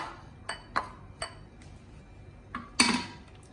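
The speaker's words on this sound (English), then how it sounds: "I immediately stir in biscuits" Biscuits stirred into a hot dessert mixture in a bowl, heard as a few sparse spoon taps and clinks against the dish, close but quiet, ending with one louder scrape.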